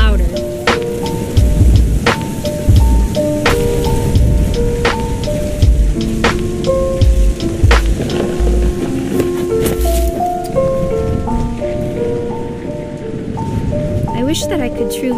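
Steady rain with repeated rumbling thunder in a video game, mixed with music notes and a voice speaking over it throughout.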